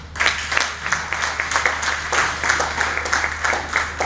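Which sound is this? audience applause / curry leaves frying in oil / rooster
audience applause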